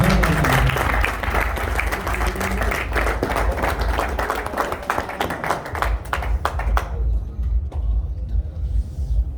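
A crowd claps loudly and steadily, the applause thinning into scattered claps before fading out near the end.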